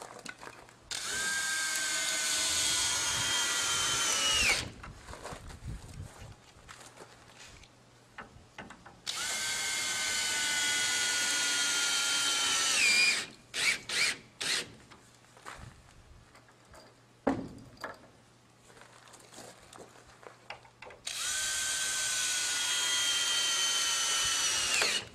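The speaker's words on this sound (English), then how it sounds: "Low speed on your drill. This will clear out the holes for the lag bolts." Power drill run at low speed clearing pilot holes for lag bolts in dock end ramp saddle stringers; three long, steady whirring bursts alone, separated by pauses with scattered clunks and handling knocks.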